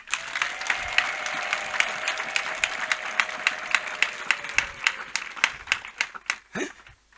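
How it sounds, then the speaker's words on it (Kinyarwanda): A church congregation at an ADEPR prayer service claps together in a steady rhythm. The sharp, evenly spaced claps sit over a faint held tone and grow more distinct and spread out before a final scuffle. "nimuyikomera amashyi."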